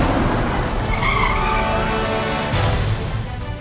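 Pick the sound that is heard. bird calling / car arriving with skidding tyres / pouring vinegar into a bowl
car arriving with skidding tyres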